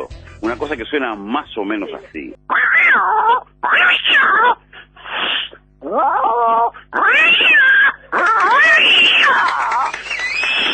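A voice imitates an angry, yowling cat, a mix of an enraged cat and one in heat, with loud wavering howls in several bursts after a brief spoken lead-in.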